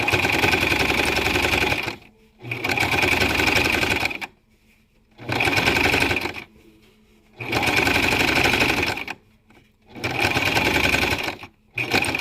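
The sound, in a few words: sewing machine back stitching fabric for 3D mask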